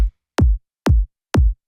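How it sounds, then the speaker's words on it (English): Four electronic kick drum hits in a melodic techno drop, each a layered punchy top kick cut short with a deep sub low kick beneath, evenly spaced about half a second apart, loud and dry with no other sounds. "It's a top kick and a low kick."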